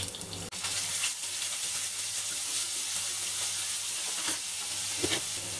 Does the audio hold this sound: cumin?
yes